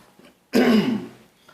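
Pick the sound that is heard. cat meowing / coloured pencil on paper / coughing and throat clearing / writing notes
coughing and throat clearing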